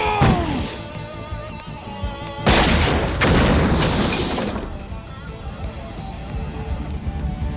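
A Sonic Boom special attack in the Street Fighter animated series, a sudden loud whooshing burst that holds for about two seconds over background score, with voices around it.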